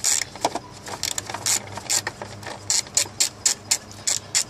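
A ratchet wrench turns a bolt while spark plugs are changed on a car, giving a series of crisp, rapid clicking bursts in an irregular rhythm, close up and fairly clear, with no talking.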